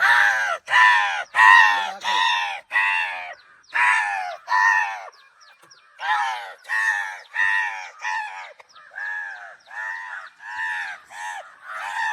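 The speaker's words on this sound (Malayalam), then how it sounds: "രണ്ട് മൂന്ന് നാല് അഞ്ച് കാക്ക വന്നിട്ടുണ്ട്" Several crows call in quick succession, a steady run of harsh, rising caws close by with brief gaps between them.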